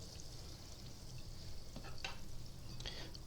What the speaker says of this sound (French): Et je jette dans mon huile